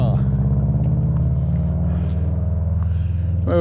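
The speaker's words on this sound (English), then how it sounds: "We got a very loud car." A very loud car on a road beside a wooded cemetery trail, its deep engine rumble droning steadily and close as it goes by, with a brief rise in revving near the end.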